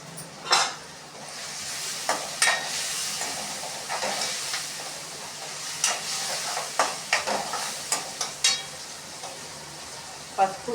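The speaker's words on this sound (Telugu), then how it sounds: "ఈ ఆయిల్లో బాగా ఫ్రై అవుతాయి కదా" Green chillies fry in hot oil in a pan for an egg curry, giving a steady close sizzle with repeated sharp scraping clicks from stirring, no voices present.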